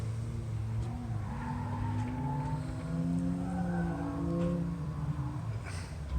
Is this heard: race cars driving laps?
yes